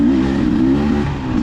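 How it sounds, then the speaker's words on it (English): A 2024 Beta motorcycle engine revs hard and close, a loud brief burst of rising and wavering engine roar with no voices over it. "Power's a little more jerky because this thing revs up pretty crazy"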